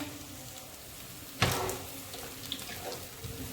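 Potato and semolina snacks deep fry in hot oil until crispy, a steady close sizzle with a sudden louder surge of crackling partway through that settles back down.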